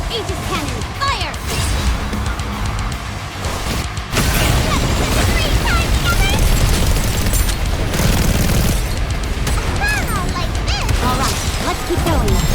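The Aegis cannon fires during a battle in the mobile game Goddess of Victory NIKKE: loud booming blasts and crashing impacts over rapid gunfire, with game voices speaking over the chaos.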